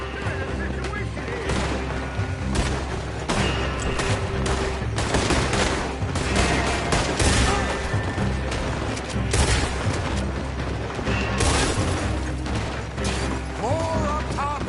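Gunfire from a Red Dead video game shootout at an oil site, with dense volleys of rifle and pistol shots cracking almost nonstop, booming impacts and mechanical clatter layered over voices.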